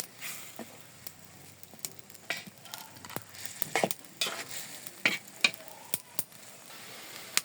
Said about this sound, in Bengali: লাউয়ের জন্য মশলাটা কষানি বসাই দিলাম।